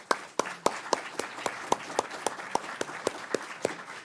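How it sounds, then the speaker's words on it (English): Steady rhythmic hand clapping from a conference audience applauding a panel on employee ownership, a sparse, even run of sharp claps at close range with no talking. "Can we have a round of applause for the panel"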